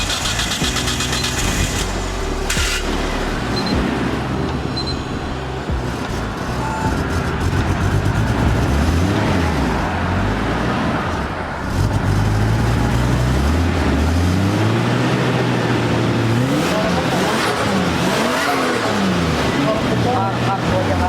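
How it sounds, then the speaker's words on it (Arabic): A Nissan Skyline with a turbocharged engine starts and idles loudly, with its rumble running throughout and a few revs, while people talk over it. "هسه راح نشغل السيارة، نسمعكم صوتها"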